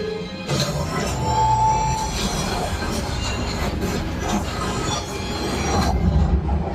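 A rumbling train sound effect on the Millennium Falcon: Smugglers Run ride at Hollywood Studios clatters along continuously with metallic squeals and rattling, loud and close, with heavy low-end rumble throughout.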